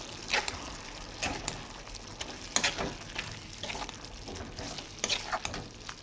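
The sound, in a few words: stirring ivy gourd tomato curry in a pan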